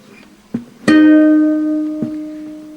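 A single guitar chord in an alternate tuning is struck after a light pluck, ringing close and bright, then decaying slowly with a faint touch near the end.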